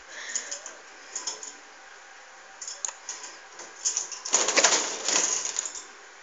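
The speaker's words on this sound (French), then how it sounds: "Et mes oiseaux à côté, alors ils font un peu de bruit." Pet birds, pigeons or doves, kept indoors close by, give off scattered chirps and rustling, with a louder, busier burst of calls and fluttering near the end.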